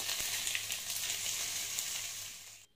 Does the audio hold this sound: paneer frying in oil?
yes